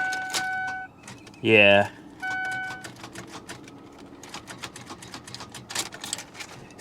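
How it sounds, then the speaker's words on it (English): A Hyundai Kona that won't start gives a brief burst of starter clicking and grinding, close by, between quieter jangling and mechanical noises, with a short spoken remark. "It does sound like either a bad starter or a locked up engine."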